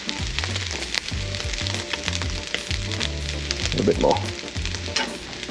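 Green onions sizzle loudly in a pan of home-made fried rice, a steady frying hiss broken by scraping stirs, with a brief spoken phrase partway through.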